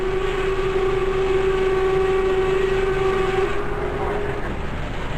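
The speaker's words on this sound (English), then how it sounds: "Just to hear the sound of that whistle." A Norfolk Southern steam locomotive in 1985 sounds a long, steady whistle over the continuous loud rumble of a passing train, the whistle cutting off partway while the rolling noise carries on.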